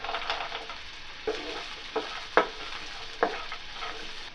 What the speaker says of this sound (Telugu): మనం కట్ చేసి పెట్టుకున్న ఆనియన్స్ ముక్కలు వీటన్నిటిని రెండు నిమిషాలు దూరగా వేయించుకోవాలి